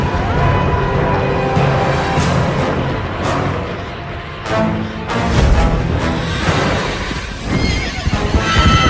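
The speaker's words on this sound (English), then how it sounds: "With the release of the fire steeds, Kratos was now in the hands of the beasts." Fire steeds in the video game God of War neigh loudly and repeatedly, with hoof clatter and a dense, rumbling game soundscape beneath.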